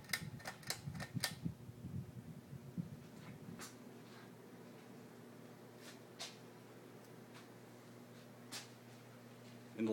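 A remade Red Air Cool ceiling fan runs on medium speed with a faint, steady low hum, and a few light ticks and clicks come at the start and sporadically through the quiet.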